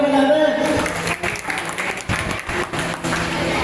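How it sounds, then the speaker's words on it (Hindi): Children clap together after a performance at a freedom celebration honoring sacrifice, a burst of dense, uneven applause in a hall, with a voice briefly talking at the start. "तो बच्चों एक बार तालियां बजा दें।"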